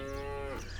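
A cow in the video game Martha is Dead gives a single short, low moo, close and steady, over a soft constant background rumble.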